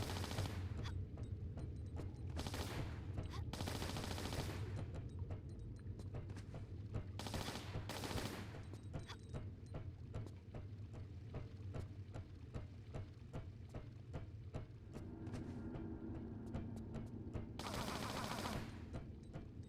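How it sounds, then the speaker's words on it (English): Uzi gunfire from Tomb Raider: The Last Revelation, rapid automatic bursts crackling repeatedly over a steady game backdrop, several separate volleys spread across the stretch with short pauses between them. "let's switch to the Uzis"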